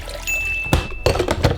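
Water poured for brewing coffee, a short splashing pour with a few distinct bursts and trickles, close and fairly loud with no talk.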